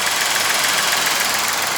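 A 2021 Nissan Almera 1.0-litre turbocharged three-cylinder engine with Xtronic CVT idles steadily, a loud continuous close-up drone with no talking over it.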